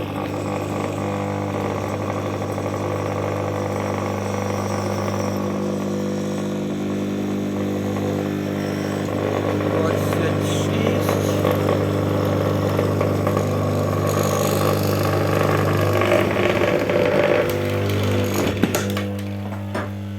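A self-charging generator motor for electric transport is switched on and hums with a steady tonal drone, its pitch and level rising slightly partway through, with a clatter of handling near the end.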